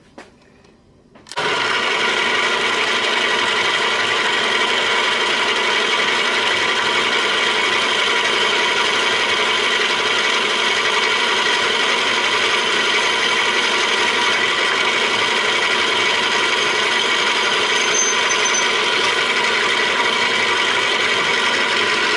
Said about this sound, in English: So now I'm ready to start drilling here.